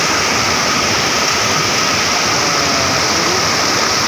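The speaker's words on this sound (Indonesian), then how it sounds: "Curug desa air terjun" A village waterfall in the countryside, with steady broadband roar of falling water filling the clip, loud and continuous with no voices.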